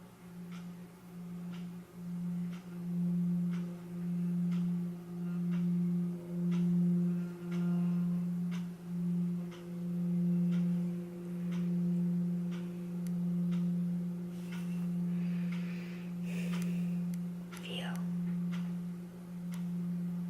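A steady low humming tone pulses slowly and evenly, with faint regular ticks and occasional soft chimes above it.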